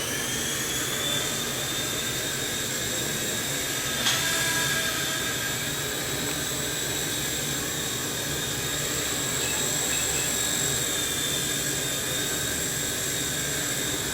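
A small T-REX 100X RC helicopter flies nearby with a steady high-pitched electric whine from its rotors that hums on without pause, with one faint knock partway through.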